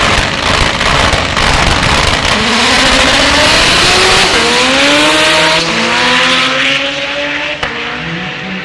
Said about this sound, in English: Sean Werning, 6-cylinder 1G against Yaral Vargas Lopez in the Super Tech front wheel drive semifinals